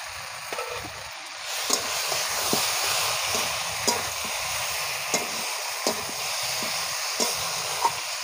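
Pointed gourd and potatoes sautéing together in a pan give a steady close sizzle, broken by spatula scrapes and taps about once a second as they are stirred, with no talking.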